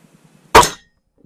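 A single sharp report from a .177 air rifle rings out, a brief crack with a quickly fading metallic tail, preceded by faint soft ticks in otherwise quiet surroundings.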